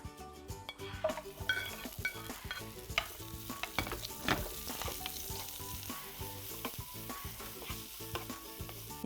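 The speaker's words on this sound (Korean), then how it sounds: "그래서 파프리카 빨간색하고 당근은 맨 마지막에 볶아보겠습니다." Red paprika and carrots stir-fried in a pan for mushroom japchae, with steady close sizzling and frying broken by scraping stirs and light clinks of utensil against the pan, no talk.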